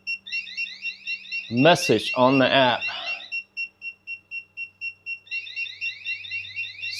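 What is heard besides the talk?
Frizzlife water leak monitor alarm going off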